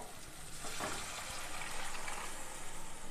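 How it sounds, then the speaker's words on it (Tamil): A tumbler of water is poured into a pot of dal rasam, giving a soft, splashy gurgle with faint sizzling beneath it. The sound is quiet and heard alone. "இப்போ ஒரு டம்ளர் தண்ணி ஊற்றிட்டேன்"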